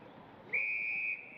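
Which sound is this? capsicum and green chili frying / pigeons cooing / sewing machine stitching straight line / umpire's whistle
umpire's whistle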